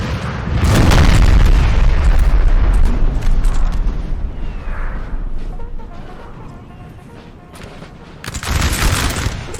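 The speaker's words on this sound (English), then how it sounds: "I don't know why these guys are shooting." Massed musket volleys from a 4v4 Napoleon: Total War battle roar out as loud, rolling gunfire with deep booming rumble, easing off midway before another heavy burst erupts near the end.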